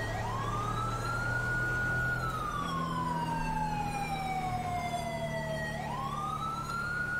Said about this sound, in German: Wir machen mal die Sirene aus, damit ich keinen Ohrenkrebs krieg